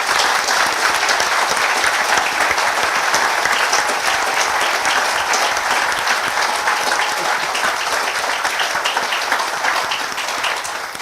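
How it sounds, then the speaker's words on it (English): Sustained, loud audience applause at a conference, a dense even wash of many hands clapping for over ten seconds, tapering slightly at the end. "So can I just give them a round of applause,"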